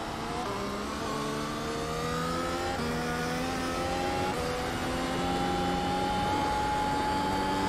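A Formula One car in the iRacing sim game revs up through the gears, its high whining engine note climbing in steady upward sweeps, loud and unbroken, with no talk.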